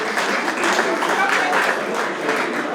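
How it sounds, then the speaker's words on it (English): A crowd applauds steadily for a few seconds at an awards event, a dense wash of clapping from many hands with no pauses. "Let's give her a round of applause one more time"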